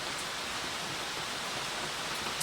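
Steady rain falling outdoors, a soft, even wash of drops with no breaks, fairly faint and constant throughout.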